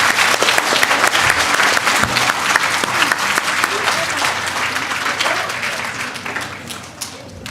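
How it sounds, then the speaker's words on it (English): A school audience applauds 5th and 6th grade students at an awards assembly, with loud sustained clapping from a crowd that gradually thins and fades toward the end. "Let's give a round of applause to our 5th and 6th grade friends."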